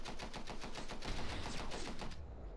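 Automatic gunfire in a video game rattles in a fast, even stream of close, loud shots for about two seconds, then cuts off abruptly, with no one talking.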